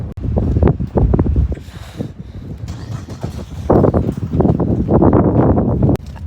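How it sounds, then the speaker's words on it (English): Strong gusts of wind batter the microphone outdoors during a possible dust storm, roaring in loud, uneven bursts that swell and fade with no talk. "It's pretty windy right now."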